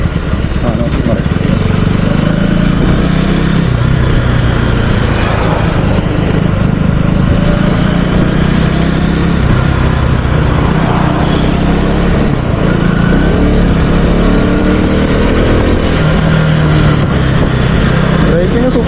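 A KTM Duke 250 motorcycle, knocking in fourth gear, drones steadily and loudly throughout the ride with a continuous engine roar and rushing wind noise.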